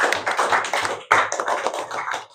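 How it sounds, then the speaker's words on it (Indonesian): Classroom students clapping for a classmate, close and loud uneven clapping from a small group with a sharp fresh burst midway, no talking over it. "Tepuk tangan buat Aliudin."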